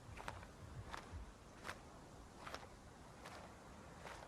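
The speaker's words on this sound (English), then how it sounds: "I'm hearing distant footsteps that way. They seem quite slow." Faint, slow, evenly spaced footfalls of a large creature somewhere in the distance in ARK, six soft thuds over quiet ambient noise, no voices.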